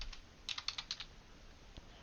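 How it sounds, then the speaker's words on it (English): Quick, light keystrokes on a computer keyboard as a barcode is typed in, a short uneven burst of close, quiet clicks with no voices. "I can type in that barcode once again"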